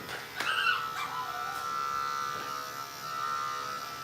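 Electric grooming clippers buzz steadily on a small puppy being groomed, a thin high whine running throughout, with brief faint yelps and whimpers from the dog near the start.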